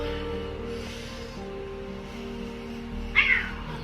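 A single short meow near the end, after a few seconds of quiet room hum.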